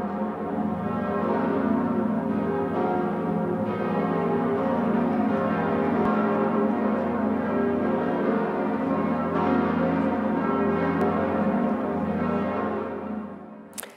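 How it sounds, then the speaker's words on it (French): The bells of Notre-Dame and other Paris churches ring together in a dense, sustained peal that hangs in the air, fading out near the end. "les cloches de Notre-Dame et de toutes les églises de la capitale qui ont résonné dans Paris."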